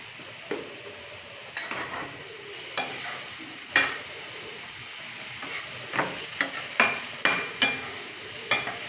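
Katla fish masala fries in a pan with a constant sizzle, while a spoon scrapes and knocks against the pan in irregular strokes, close and clear with no talking.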